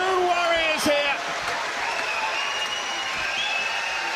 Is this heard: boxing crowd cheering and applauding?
yes